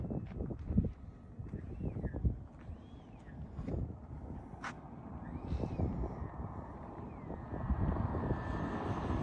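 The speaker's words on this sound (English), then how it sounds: "Full flaps take off with a heavy crosswind." A Freewing P-8 Poseidon RC model jet makes a full-flaps takeoff in a heavy crosswind, its rising whine with overtones sweeping upward, heard over strong gusting wind noise and low rumble.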